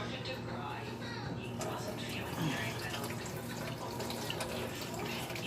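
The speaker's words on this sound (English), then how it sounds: "The onions gotta go under cold water." Cold tap water runs steadily into a sink while onions are rinsed during home food prep, a continuous splashing hiss with occasional drips, under a person talking throughout.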